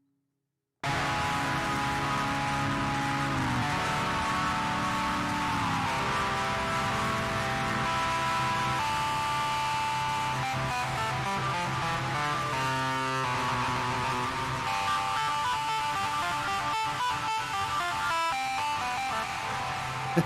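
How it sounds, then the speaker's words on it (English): A virtual steel guitar from an iOS app played through a metal distortion effect gives a dense, saturated, sustained tone, with chords shifting and held for about twenty seconds without a break and no voices over it. "Let's add some distortion."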